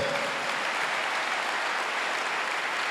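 A church congregation applauds in a dense, steady roar of clapping that fills the room from start to finish, with no pauses.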